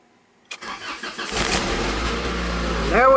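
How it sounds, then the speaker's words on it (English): After a short silence, a 1994-1997 Honda Accord EX with a new starter cranks briefly and catches, settling into a steady, loud close-up idle that rises slightly near the end, with no one speaking. "Starting the motor, good."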